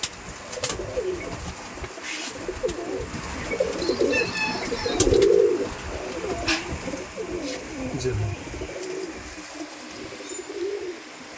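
Giribaz pigeons coo in low, rolling burbles at a pigeon farm, several birds overlapping nearby, with brief wing flutters and people talking amid the flock.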